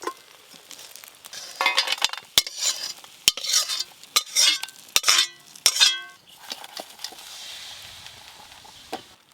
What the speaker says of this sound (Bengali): কাঁকড়াগুলোও লাল লাল করে ভাজা হয়ে গেছে